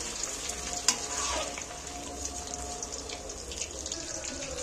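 Food frying in a pan over a low gas flame, a steady hiss of oil with a sharp clink near the start and faint stirring scrapes, fairly quiet and close.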